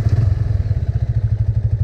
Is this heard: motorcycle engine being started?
yes